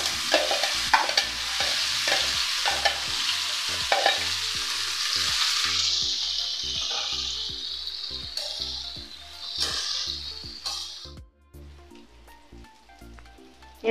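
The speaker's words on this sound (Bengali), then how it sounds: "এবার আমি এঁচোড়টাকে ভেজে নিচ্ছি।" Raw jackfruit chunks fry in a pan, a steady loud sizzle with repeated scraping stir strokes, easing off partway and briefly dropping near the end.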